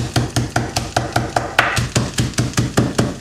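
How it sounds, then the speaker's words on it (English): A hammer whacks crackers inside a bag in a home kitchen, about fifteen quick, sharp, evenly spaced blows landing close by, with no talking. "get my lady hammer and put the crackers in a bag and then just whack them like that"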